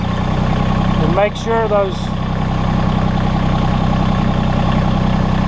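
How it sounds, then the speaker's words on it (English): Massey Ferguson compact tractor engine idling steadily and close by, a continuous low rumble throughout with a voice briefly speaking over it. "Final step is to start the tractor again"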